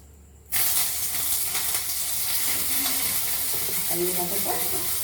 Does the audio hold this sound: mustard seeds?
yes